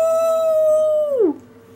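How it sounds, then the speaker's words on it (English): A single long wolf howl holds one steady, clear pitch, then slides down and fades out, loud and close with no talk over it. "can you hear the wolf?"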